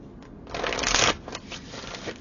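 Someone shuffles a Moonology oracle card deck in a brief close riffle of papery cards, swelling in the middle and fading, with no talking.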